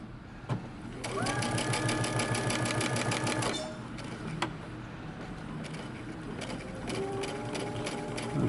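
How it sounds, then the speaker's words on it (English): Domestic sewing machine running basting stitches through shirt fabric in two bursts, a steady rapid mechanical whir with clattering needle rhythm, pausing briefly before starting again, close and fairly loud. "starting at the notch, we're going to use a basting stitch, and we're going to back stitch at the beginning but not at the end"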